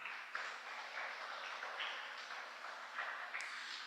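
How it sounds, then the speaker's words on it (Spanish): Church congregation applauding during a worship service, a steady clatter of hands clapping in a reverberant room, fairly soft and sustained, with brief brighter accents scattered through. "Denle un aplauso al Señor"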